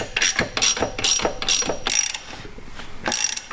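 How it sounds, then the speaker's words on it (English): A ratchet wrench tightening the crankshaft bolt on a Land Rover LR4 during timing chain work, about seven crisp clicking bursts in an uneven rhythm, close and loud with no voices. "being we are tightening the crankshaft bolt down, we had to flip the tool to the opposite side"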